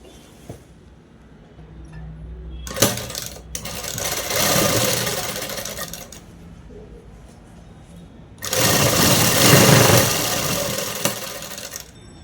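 An electric sewing machine stitching the sleeves of a dress, running in a short burst and then two longer steady whirring runs, close and clear, with quiet pauses between.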